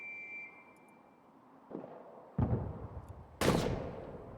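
Gunfire in a trench warfare video game with German troops retreating: three separate bursts of shots, each louder and closer than the last, over a quiet background with no talking.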